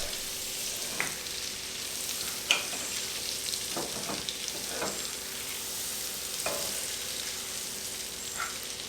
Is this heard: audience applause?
no